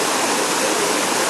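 Chinnamasta stream rushing steadily like a small waterfall, a loud broadband wash of flowing water with no voices.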